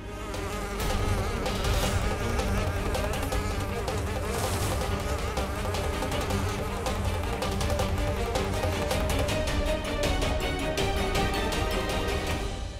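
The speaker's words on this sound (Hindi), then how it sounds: "ये मधुमक्खी की आवाज, वो कीड़ा?" Bees buzz densely and continuously in a dramatic TV serial scene, a loud swarm drone layered over dense background music.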